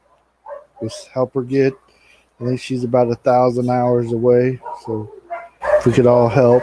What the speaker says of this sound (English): sorry the dogs are going crazy out here